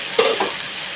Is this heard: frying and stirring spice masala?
yes